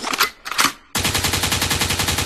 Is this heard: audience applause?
no